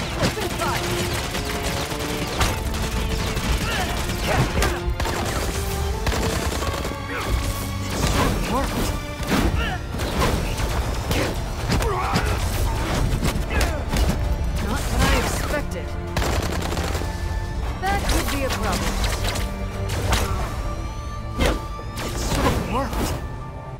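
Gunfire in the Marvel Future Revolution video game: dense, rapid volleys of shots and crashing impacts roll on almost continuously over a loud musical score.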